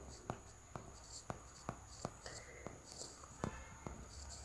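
A pencil writes on paper during a geometry activity on solids, giving a run of quick, sharp scratches and taps at an uneven rhythm, close by and fairly quiet.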